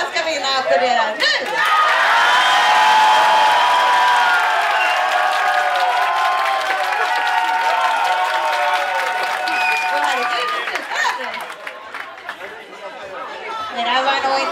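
A crowd applauding and cheering to vote for a contestant named Carina at a Swedish vinyl quiz event, a loud sustained wave of clapping, shouts and chatter that builds quickly and tapers off near the end.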